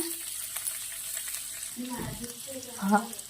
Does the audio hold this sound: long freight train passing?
no